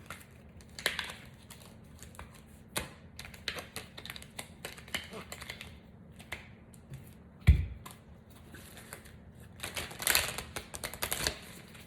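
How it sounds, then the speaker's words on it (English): Tarot cards are picked up and shuffled on a table, giving soft irregular taps, flicks and riffles with faint crinkling, quiet and close, while a person talks. "I'm just going to pick these up and going to get some other cards for you."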